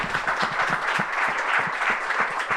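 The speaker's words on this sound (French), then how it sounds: "On applaudit." An audience claps steadily throughout, dense and fairly close, a continuous patter of many hands without cheers.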